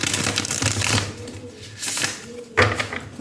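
Papery riffling and flicking of a deck of tarot cards being shuffled, in a few bursts with brief pauses between.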